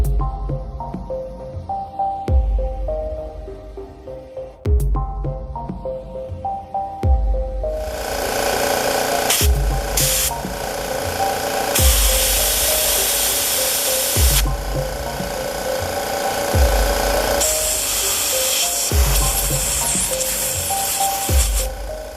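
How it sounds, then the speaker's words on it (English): Sandpaper rubbing corrosion off the end of a disc brake caliper part, a steady scratchy back-and-forth rasp in repeated strokes, close and loud, with no talking. "I'm also going to take some sandpaper to the end of that because the wire brush didn't do the trick"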